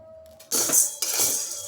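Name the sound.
stirring sabudana (sago) frying in a pan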